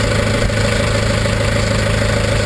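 A pump engine idles at a steady, loud, continuous hum with even low rumble and no pauses, heard up close and alone.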